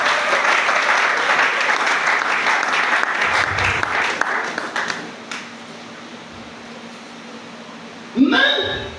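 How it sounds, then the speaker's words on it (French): A church congregation claps and cheers loudly for several seconds before the applause thins out and fades, leaving a brief ringing tone near the end. "Acclamons une fois de plus la parole de Dieu"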